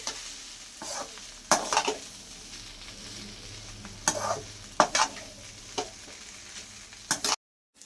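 Cooked rice being stir-fried with raw mango for tangy mango pulihora: steady sizzling in a pan broken by repeated scraping strokes of a spatula, close and moderately loud, with no talking.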